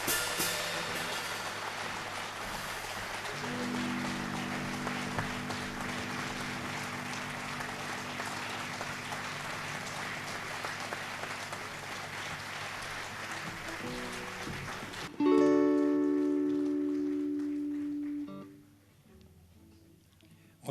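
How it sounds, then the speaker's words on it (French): Audience applause for a guest musician at a concert in La Fouillouse: broad, steady clapping fills the room for about fifteen seconds, then gives way to sustained musical tones that fade out. "je vous demande d'applaudir avec la plus grande chaleur M."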